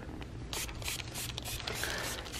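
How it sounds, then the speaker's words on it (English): Detail spray misted across a car fender in a series of short, quiet hissing bursts that come close together over steady background noise. "I'll spray the whole fender"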